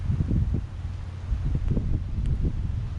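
Wind gusting outdoors at an air rifle range, heard as low buffeting rumbles of wind noise against the microphone, rising and falling in uneven gusts, fairly loud and close with no talking.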